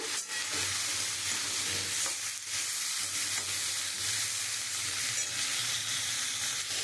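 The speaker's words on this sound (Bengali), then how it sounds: "পেঁপেটা আমি একটু হালকা ভেজে নেব" Cut papaya with onion frying lightly in oil in a pan, a steady bright sizzle with stirring scrapes and a low hum underneath, continuous and close, no talk.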